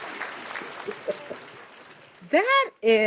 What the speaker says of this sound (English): Can y'all give her again a big fat round of applause?